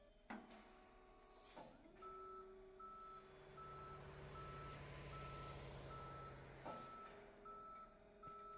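A tow truck reversing in the Police Simulator: Patrol Officers video game, its backup alarm beeping in a steady repeating rhythm over a low engine rumble, with air-brake hisses at the start and end.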